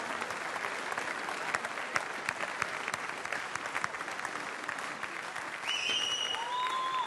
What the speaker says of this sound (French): de Jean-Luc Grisot, la maison Valrhona, que je vous demande d'applaudir